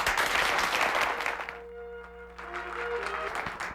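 An audience at a 1993 presidential town hall meeting in Detroit gives a burst of clapping that fades out within about a second and a half, followed by quieter tones and a voice.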